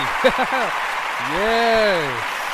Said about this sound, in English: Another round of applause for your boy, Dr. Marcus Hart